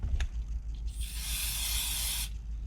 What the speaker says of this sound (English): you put a little brake cleaner on a shop rag